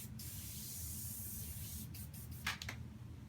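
An airbrush gun sprays onto a cleaning pad in a steady, faint, continuous hiss, broken near the end by a few brief taps and bursts.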